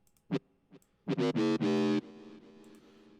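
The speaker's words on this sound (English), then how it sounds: "Usually a phaser is good for growl basses." A heavily distorted dubstep growl bass synth growls in several bursts, loud and harmonically rich, fading into a lighter distorted tail.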